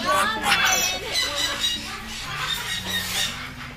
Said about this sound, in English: Little Congo babies. What are you squeaking for,